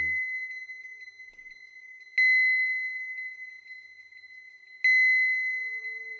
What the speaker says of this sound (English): Oh, there's that gong.